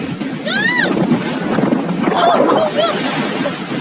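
A fast water slide ride at an island water park, with rushing water and wind noise roaring close to the microphone while a rider shouts and calls out over it.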